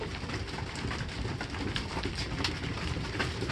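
Pigeons coo in a loft, soft throaty calls repeating over a busy, fairly loud background of flutters and rustling, with no one talking.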